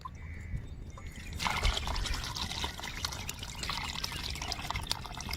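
Water is poured into a pot of soup made with bones, a close splashing pour that begins after a quiet start and continues steadily.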